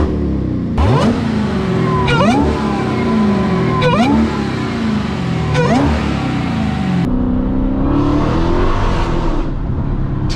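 A Dodge Challenger SuperStock Redeye Widebody supercharged V8 revs hard while driving, with three rising pulls through the gears, each climbing then dropping at the shift, followed by a lower, steadier engine drone near the end.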